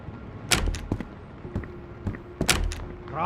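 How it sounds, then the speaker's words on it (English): A door opens in the video game Road to Vostok: a run of sharp clunks and knocks, two louder bangs and a brief drawn tone between them, close and loud with no talking. "Wait, did someone just open a door?"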